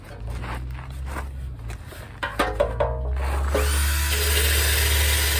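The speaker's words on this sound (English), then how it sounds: "just gonna be tearing this sucker up with this wire wheel" A cordless drill fitted with a wire wheel strips paint from a motorcycle fuel tank, the motor winding up into a loud steady whine with a harsh scraping hiss that holds on after a few scuffing knocks and shuffles.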